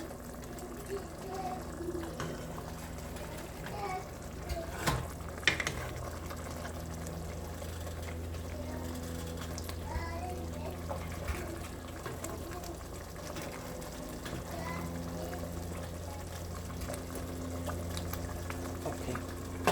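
Egusi soup with spinach simmers in a pot with a steady, low bubbling hiss, broken by a few soft scrapes and clinks of gentle stirring, all close and fairly quiet.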